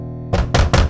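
A door being knocked on with three heavy, close thuds in quick succession over a steady low hum, with no voices during the knocks.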